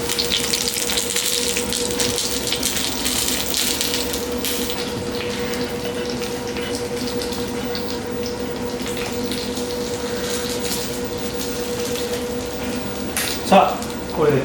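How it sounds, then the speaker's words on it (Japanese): Gyoza pan-frying slowly in salad oil over heat lowered from high to low after the steaming water has cooked off, in a dim sum chef's kitchen. A steady, even sizzle runs throughout, with a couple of brief utensil knocks near the end. "ゆっくり焼いていきます。"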